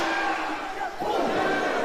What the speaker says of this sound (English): Crowd certainly letting everyone know which one they think is the superior team.